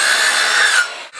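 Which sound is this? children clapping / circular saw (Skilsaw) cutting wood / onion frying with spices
circular saw (Skilsaw) cutting wood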